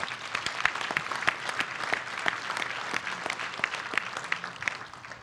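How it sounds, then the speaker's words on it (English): An indoor audience at an innovation summit awards ceremony claps steadily, a continuous wash of applause with no talk over it. "Please stand for your applause."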